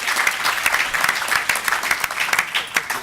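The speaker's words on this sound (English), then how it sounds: "Round of applause." Applause from a panel audience at a pre-election discussion, a steady dense clapping that fills the room for about three seconds with no talk over it.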